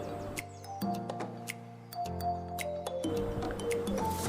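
Water drips and trickles from the drainage holes of a potted pothos plant after thorough watering, with scattered small drips and squishy splashes over a steady liquid flow, close by with no talking.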